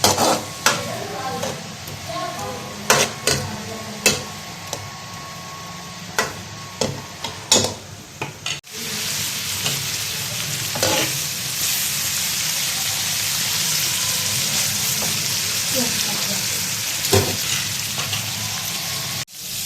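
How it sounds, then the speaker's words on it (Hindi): Onions browning in a pan for aloo methi, first stirred with sharp spatula knocks on the pan for several seconds, then a steady loud sizzle with occasional scrapes. "प्याज को अच्छे तरीके से हम इसके अंदर ब्राउन करेंगे"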